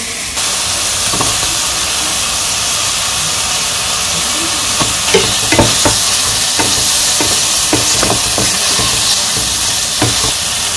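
Tomatoes hit a hot pan of onion, ginger, garlic and green chili paste for a village-style mutton curry, giving a loud, steady sizzle and hiss with occasional stirring scrapes throughout.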